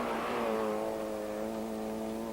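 A Volkswagen Golf GTI rally car on a 1990 rally stage sounds as a steady engine drone, revving and then easing to a sustained tone.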